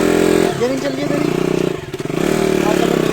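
A motorcycle engine runs steadily and loud, close by, with a brief dip in the rumble partway through, while people talk over it.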